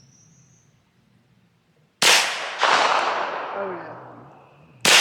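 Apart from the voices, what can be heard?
KelTec Sub 2000 gen 2 9mm rifle firing brass ammo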